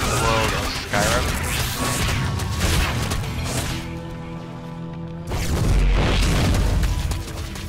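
A Protoss probe is destroyed in a StarCraft 3v3 match, heard as a dense run of booms, crashes and impact hits over game music, with a louder burst near the end and faint talk underneath.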